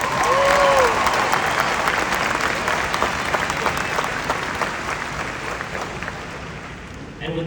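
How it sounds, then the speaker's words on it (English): A large crowd at a Veterans Memorial High School graduation ceremony applauds the Patel family with loud, sustained clapping that starts strong and slowly tapers over several seconds. "let's give a round of applause to the Patel family"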